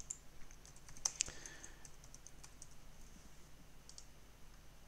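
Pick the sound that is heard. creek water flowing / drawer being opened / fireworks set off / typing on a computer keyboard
typing on a computer keyboard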